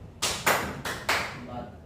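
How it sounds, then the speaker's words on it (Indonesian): Hands clap four times in a steady rhythm, sharp and close, in a classroom counting exercise. "tepuk tangan"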